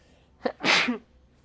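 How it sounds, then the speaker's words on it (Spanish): A single loud sneeze bursts out close by after a brief sharp intake of breath, with quiet around it. "Voy a estornudar un segundo."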